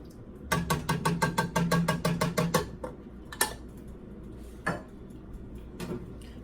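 Canned tomato sauce is emptied into a pot of chili with a quick run of bright metallic clinks and taps, followed by a few scattered louder clanks against the pot, close and with no talking.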